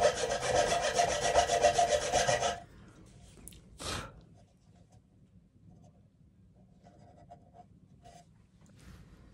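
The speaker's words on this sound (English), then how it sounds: "back to filing." A file rasps across ukulele nut slots in a dense burst of scraping strokes for a couple of seconds, followed by a single short rub, then quiet handling sounds.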